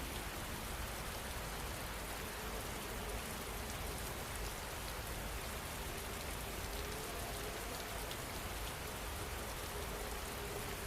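Steady rain falls without pause, a dense, even hiss of drops on surfaces that holds at one level throughout, with no voices or thunder.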